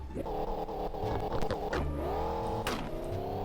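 A car engine revs hard and climbs in pitch as the car pulls away, loud and close, with steady rising harmonic drone and brief clunks, no talk over it.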